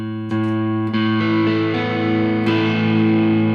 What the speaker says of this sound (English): So overdrive is more of that soft clipping